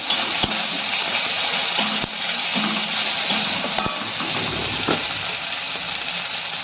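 Onions with ginger-garlic paste fry in a pan, a steady loud sizzle running throughout, broken by occasional sharp clinks of a utensil against the pan.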